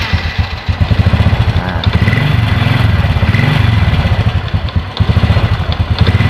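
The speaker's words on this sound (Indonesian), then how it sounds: "ini motor bisa di starter kembali ya teman-teman ya" A motorcycle engine, restarted after a starting fault that only clicked, runs close by with a loud, steady idling putter that pulses rhythmically throughout.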